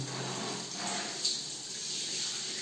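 Water from a bathroom tap runs in a steady, soft splashing stream during toilet cleaning, faint and continuous with no voices.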